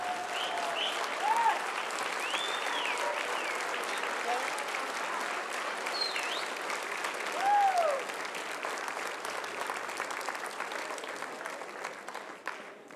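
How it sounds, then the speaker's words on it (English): A standing audience at a Pasadena school district sports hall of fame induction gives a sustained round of applause for the new inductees, a steady wash of many hands with a few whoops and whistles rising above it. "would you please rise and give all of our new inductees a warm round of Pasadena applause"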